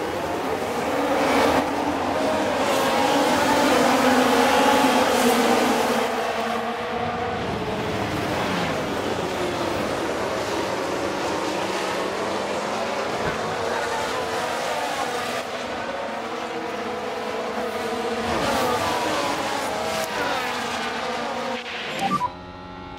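Formula 1 cars pulling away at the start of the Bahrain Grand Prix at Sakhir, a dense roar of engines rising and shifting in pitch as the pack accelerates, loud and continuous with a commentator speaking over it.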